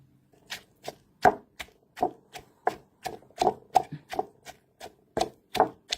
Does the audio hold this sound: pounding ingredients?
yes